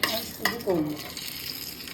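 Okra hits hot oil seasoned with mustard, black cumin, dried chili and garlic, giving a short close sizzle with a few clattering stirs.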